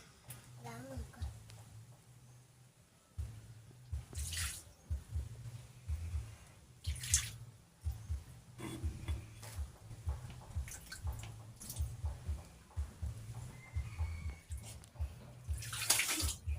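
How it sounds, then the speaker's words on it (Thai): Water running from a tap while hands are washed, a steady splashing stream with intermittent louder gushes and a low humming background, close by, with occasional voices. "ล้างมือก่อน"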